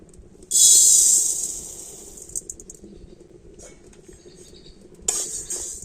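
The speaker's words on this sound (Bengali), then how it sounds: "এই খালি কড়াতেই আমি দিয়ে দেব ডাল" Dry moong dal poured into an empty hot kadai makes a loud, dense rattling patter that starts sharply, then thins into scattered grain clicks before a second shorter burst near the end.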